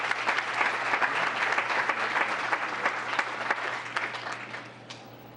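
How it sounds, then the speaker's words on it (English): Community leaders get a round of applause at a town council meeting, steady moderate clapping from a modest crowd in a room, easing off toward the end over a low steady hum. "Round of applause for them."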